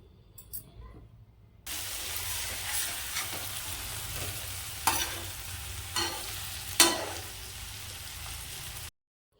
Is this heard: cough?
no